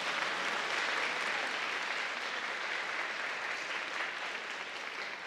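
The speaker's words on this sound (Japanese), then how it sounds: "今一度盛大な拍手をお送りください。" Dense, steady applause from the crowd at a kickboxing event fills the arena, loud and continuous, with no break over several seconds.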